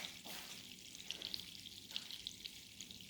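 Mock chicken (city chicken) browning in a hot pan gives off a steady, close frying sizzle with faint crackles and pops throughout, and no voices.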